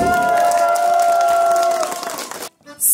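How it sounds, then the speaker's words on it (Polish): A wedding crowd claps and cheers loudly for a couple of seconds, then the applause drops away abruptly into near silence. "brawa dla nich!"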